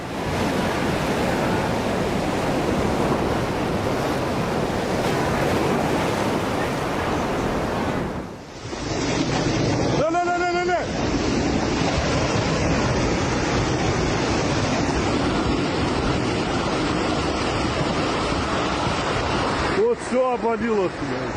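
Loud rushing river water surges continuously as a collapsing riverbank crumbles piece by piece into the current, with a brief dip partway through and muffled voices underneath.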